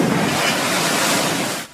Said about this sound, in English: the chaos causing waves and surge to climb over 20 feet